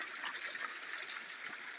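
Water streams and trickles steadily through a mountain village in Gilgit Baltistan, a close, bright, continuous splashing flow with no voices over it.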